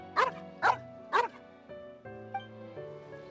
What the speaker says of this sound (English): Moshe, see, the dog recognized your scent